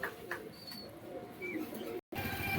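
Pigeons coo softly inside a loft: low, murmuring calls repeat over quiet background noise, with a short break in the sound near the end.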